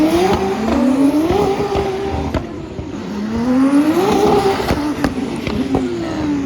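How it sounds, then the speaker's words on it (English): Formula 1 cars at the Emilia-Romagna Grand Prix sprint race, loud engines screaming as cars pass one after another, pitch rising and falling with repeated revving and fly-bys heard from trackside. "And then it was time for the sprint race, and believe me or not, these cars were loud already."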